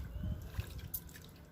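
Water poured onto soil sown with small gongura seeds, a brief, soft trickle with a few faint drips, quiet and close.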